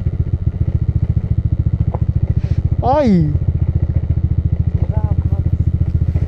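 A motorcycle not built for off-road riding chugs along a rough trail on the Marilaque route toward Infanta, Quezon, its engine pulsing steadily and close up, with a brief clatter and a short shout partway through.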